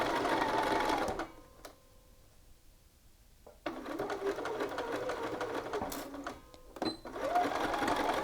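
A sewing machine stitches across a bulky shirt yoke in two close, steady runs, the motor's rapid chatter stopping for a quiet pause between bursts, with faint handling clicks.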